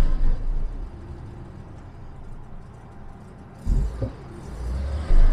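Old Jaguar XJC car engine starting up, a low rumbling idle that rises into a couple of revving surges and a sudden loud thump near the end, close and without voices.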